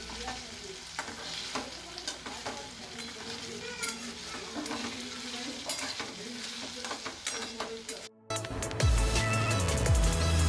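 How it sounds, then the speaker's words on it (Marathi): Garlic, onion and tomato sizzle and fry in a pan, with steady crackling and occasional stirring scrapes throughout, closing with a louder burst of sizzle near the end. "आता लसूण आणि कांदा टमाटर चांगल्या प्रकारे भाजलं आहे"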